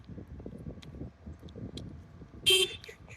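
A single short, loud car horn toot sounds abruptly over a low, steady rumble of traffic and wind.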